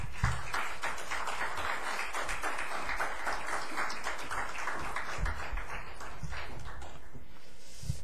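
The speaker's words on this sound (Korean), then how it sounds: "나오실 때 여러분 뜨겁게 박수해 주시기 바랍니다" Church audience clapping as a visiting missionary to Mongolia comes forward, a lively, rhythmic patter of many hands continuing steadily for several seconds.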